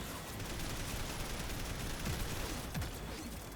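Rapid gunfire from a mech firing while hover dashing in the Daemon X Machina game, a dense continuous stream of shots mixed with thruster rush, steady and moderately loud with no talk.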